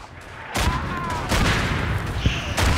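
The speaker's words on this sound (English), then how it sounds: "that mortar was heavy" Heavy mortar shells bursting in the World War I trench shooter Verdun, several loud booming impacts amid crackling rifle fire, with a player voice talking briefly in between.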